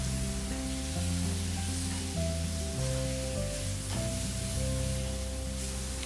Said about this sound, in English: I add the dry spices: turmeric, hing, red chili powder, coriander powder and salt,